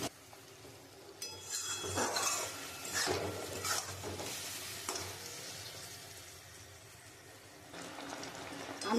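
Pieces of mango drop into jaggery melting in a pan, bringing a burst of sizzling and stirring with a few scrapes, then a softer steady bubbling that lifts again at the end.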